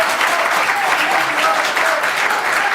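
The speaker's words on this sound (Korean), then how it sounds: "박수 한번 보내주셨으면 좋겠습니다." Steady applause from an audience at an internet journalism awards ceremony fills the whole moment, dense and even clapping from a nearby crowd with no breaks.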